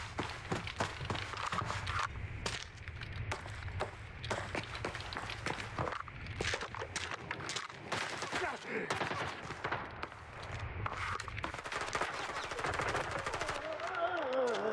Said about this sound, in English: A lot of gunfire.